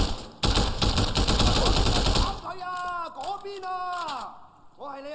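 Rapid assault rifle bursts ring out in a Sleeping Dogs shootout, a dense loud volley for about two seconds before giving way to game sounds and whistling tones.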